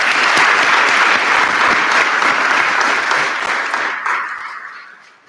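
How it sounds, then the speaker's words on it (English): A school auditorium audience at a high school senior awards night breaks into loud, sustained applause that fills the room, then thins and fades toward the end. "Let's give our commendation toward the Seal of Biliteracy candidates a round of applause"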